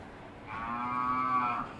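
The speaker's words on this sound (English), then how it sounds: "Ma, what you mooing for? What you mooing for? You hungry? You mooing, huh?" A single long, low moo from a cow rises and fades, close and clear over faint background noise.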